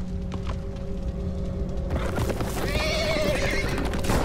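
A horse in The Walking Dead video game gives a loud, close whinny over a steady background drone, with clip-clopping hooves and thuds joining in as the neigh rises and trails off.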